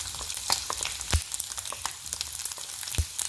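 Liver, kidneys and onions fry in a pan with a close, steady crackling sizzle, punctuated by a few sharp spatters and pops.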